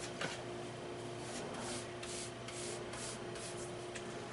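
Steady gritty rubbing and scraping of rusty metal pieces worked together to produce grit for a friction fire, continuous and close with rhythmic strokes over a faint background hum.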